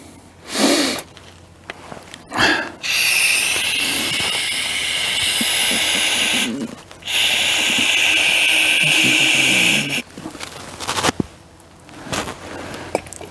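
Aerosol cleaner sprays in long, loud hissing bursts onto an engine part from a Citroën C1 1.0 68 hp suffering an oil leak, with two sustained jets separated by short pauses and a few brief clicks and handling noises.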